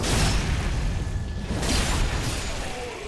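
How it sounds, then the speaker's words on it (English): Fire bombs exploding in Dark Souls 3, a loud broad roar of booming bursts that swells and fades across the clip with no talking over it. "More fire bombs."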